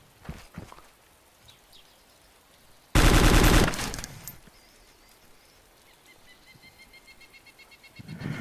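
Loud burst of automatic gunfire in DayZ, one dense volley lasting under a second amid quiet outdoor ambience, with faint bird-like chirps and a few softer distant sounds before and after.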